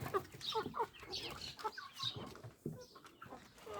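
Young chickens and crested hens clucking nearby in a steady, busy patter of short calls, with no talking.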